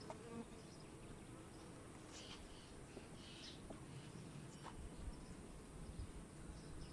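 Caucasian honey bees from Artvin buzz at an opened hive, a faint, continuous swarm hum with individual bees flitting close now and then.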